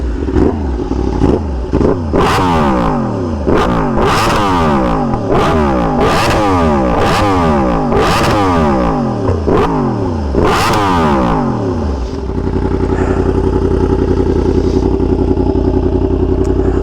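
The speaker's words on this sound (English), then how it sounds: "let's give her a few revs" A Yamaha R1M sport bike revs repeatedly up close, about eight sharp throttle blips rising and falling in quick succession, then settles into a loud, steady idle.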